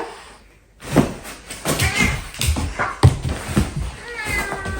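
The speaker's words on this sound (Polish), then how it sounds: "Zabawy z kotem." A pet cat meows repeatedly while playing indoors, with clear close-up mews and a few knocks like a cupboard door in the background; no talking.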